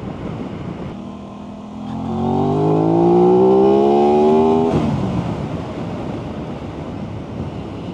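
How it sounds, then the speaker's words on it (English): Aprilia RS660 motorcycle accelerating on a ride, the engine's rising airbox bark swelling through the middle seconds over steady wind roar, then cutting off abruptly before the rush of wind continues alone. "you start to hear that airbox bark. Wow. It's just like a different character."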